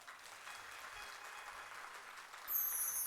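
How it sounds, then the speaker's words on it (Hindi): Faint, thin applause from an audience at a Hindi spiritual discourse, a soft steady patter of clapping heard from a distance, slightly louder toward the end. "ताली कमजोर बजी थी।"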